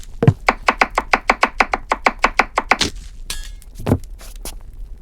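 Quick, regular knife chops on vegetables in a video game, a dozen crisp close taps in a row, then a pause and a few scattered thuds and clicks.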